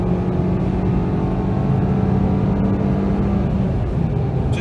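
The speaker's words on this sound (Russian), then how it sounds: "Мы едем на 5-й передаче сейчас. Все, нажимаем газ пол." Lada Vesta Cross 1.8 with automated manual gearbox (2018) accelerating uphill at full throttle, a steady loud engine drone with road rumble filling the whole stretch, no one talking.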